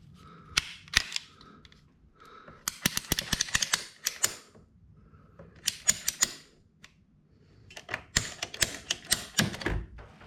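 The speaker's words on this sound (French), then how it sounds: "Donc j'ouvre la pince." Pliers clicking as they work a heating pipe fitting during installation of a heated ceiling: bursts of sharp rapid ratcheting clicks separated by short pauses, close and distinct with no talk.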